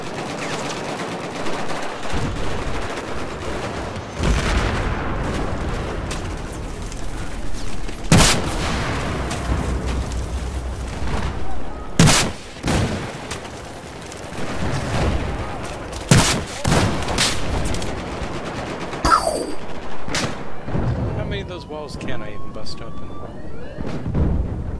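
Sniper rifle shots ring out in Battlefield 4 on the Lancang Dam map as scattered, sharp, loud cracks over a steady battle rumble, with a voice talking now and then.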